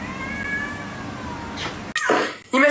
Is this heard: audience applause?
no